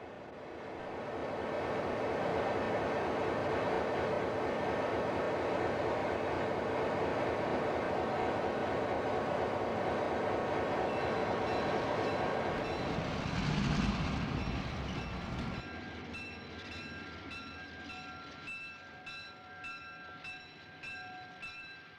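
A model railroad SP freight train rolls past close by with a continuous rumble and clatter, swelling then cutting off, followed by a regular rhythmic clicking of wheels over rail joints.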